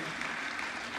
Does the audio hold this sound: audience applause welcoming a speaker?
yes